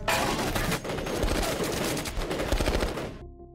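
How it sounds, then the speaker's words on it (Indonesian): Dense gunfire from several weapons at once in a zombie film, a continuous loud fusillade of overlapping shots that cuts off sharply near the end, leaving brief quiet. "mereka pun serentak menembak Parker"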